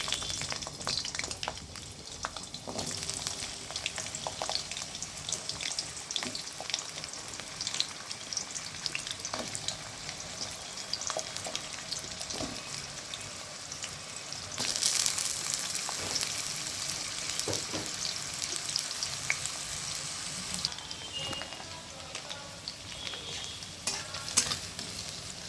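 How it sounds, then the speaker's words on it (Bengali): Potatoes frying in oil in a pan, a continuous close sizzle and crackle with occasional stirring scrapes, swelling louder partway through and running on steadily without speech. "এবার আমি আলুগুলোকে ভেজে নেব।"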